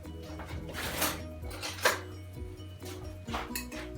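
A spoon clinks and knocks against kitchen bowls while baking a carrot, pistachio and maple bundt cake, several sharp close taps and scrapes in an irregular rhythm over a low background hum.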